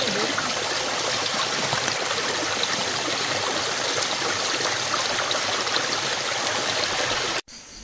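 Steady, loud rushing of a mountain stream flowing over rocks, a continuous broadband wash of water close by with no voices, cutting off abruptly at the very end.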